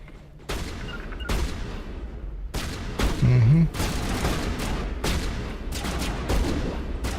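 Gunfire in the video game Mass Effect: a string of loud, sharp shots spaced about a second apart amid a continuous battle din, with a brief tonal game sound in the middle.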